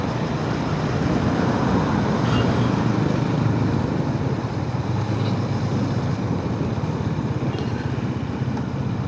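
Road traffic jams a bridge near Dombivli station, producing a dense, steady roar of engines and road noise that holds loud and continuous throughout.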